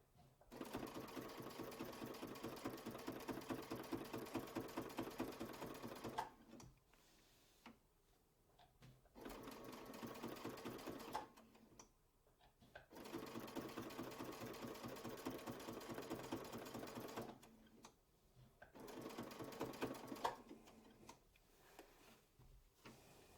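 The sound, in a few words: sewing machine stitching the last line of a quilt block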